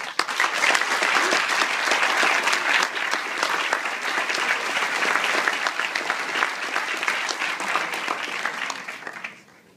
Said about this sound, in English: We got a round of applause like that before.